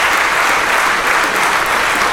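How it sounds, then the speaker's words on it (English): An audience at a live fantasy draft event in Chicago applauds loudly and continuously, a dense, close wash of clapping with no pauses. "a round of applause"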